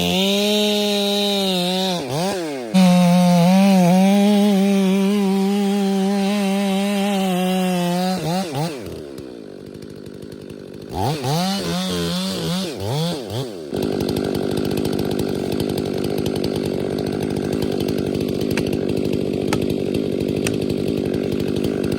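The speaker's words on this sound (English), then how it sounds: "Most of the time, you guys see me bore cutting through both sides of the tree." A chainsaw bore-cutting into a standing tree, the engine droning steadily, dipping and revving as the bar plunges and works through the wood, then settling into a loud continuous cutting roar with no talking.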